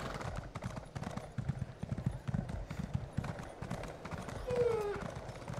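Hooves of a Midnight Steed mount clip-clop at a steady walking rhythm in Elder Scrolls Online, with faint game ambience and a brief whinny-like tone near the end.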